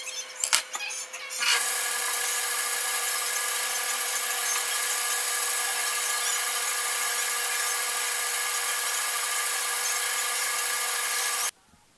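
A bandsaw cuts steadily through maple wood, a loud, sustained whine holding for about ten seconds after some brief handling knocks at the start, then stopping abruptly.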